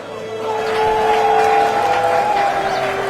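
Spectators applaud steadily at a wrestling bout, a dense wash of clapping with a sustained musical tone running underneath, loud and even throughout.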